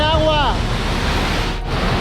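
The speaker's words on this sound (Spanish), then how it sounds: "¡Vean la caída de agua!" The Popocatl river pours as a waterfall into a cave in the Sierra de Zongolica of Veracruz, a constant loud rushing roar with wind buffeting the microphone and a brief voice at the start.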